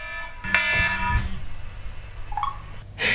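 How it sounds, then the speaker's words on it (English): A phone alarm sounds on its own with bright, tonal beeping bursts that start and stop over a few seconds, with a faint background hum and no speech. "there's my alarm telling me I've got 45 minutes, 50 minutes, before my window actually opens"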